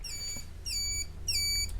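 An electronic 6-volt turn signal relay on a 1971 Honda CT90 gives three loud, shrill electronic beeps, each about half a second long, evenly spaced, close by over a low background hum.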